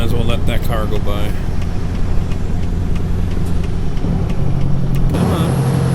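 A car drives past in the American Truck Simulator video game, a steady low engine and road hum under a player talking, with the in-game truck's idle droning throughout.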